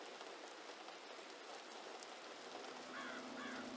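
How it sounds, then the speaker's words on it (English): Steady rain patters on surfaces in a video game, Séance of Blake Manor, and near the end a crow gives two faint caws through the downpour. "Another crow?"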